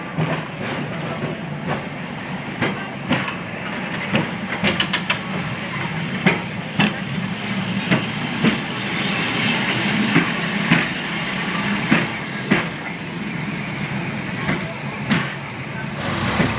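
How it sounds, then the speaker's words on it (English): An electric trolley tram with a pantograph rolls past at an outdoor museum, its wheels giving a rhythmic clicking clatter over the rails at a moderate distance, with faint voices in the background. "Here comes the trolley."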